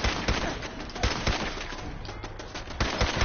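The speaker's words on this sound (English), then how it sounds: "I hate these stupid machine gun turrets." Rapid gunfire from a machine gun turret in the game Fallout 4, a dense continuous rattle of shots with sharper bursts standing out, loud and close throughout.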